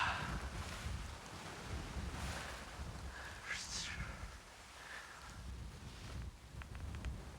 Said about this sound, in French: c'est du vent d'ouest